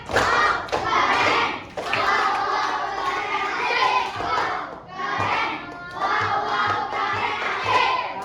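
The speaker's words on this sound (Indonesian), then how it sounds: "Tepuk keren." A classroom of students claps together in a rhythmic patterned cheer, loud and close, in several bursts with brief pauses, with some children's voices mixed in.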